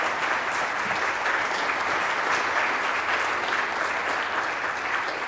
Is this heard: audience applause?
yes